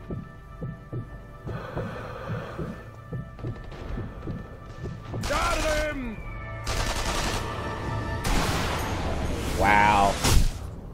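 Gunfire from shooting enemies in Sniper Elite V2: loud bursts of rifle shots and explosive cracks that come in clusters over a rumbling game soundtrack, with someone talking through the first half.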